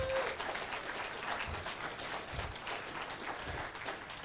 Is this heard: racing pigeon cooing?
no